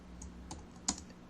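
Quick, light keystrokes on a computer keyboard while entering a query into Wolfram Alpha, a few soft clicks with one sharper tap near the end, quiet and alone.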